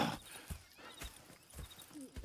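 Horses in the video game Red Dead Redemption 2 clip-clop with a slow, steady rhythm of hoof falls, faint and somewhat distant against a quiet background.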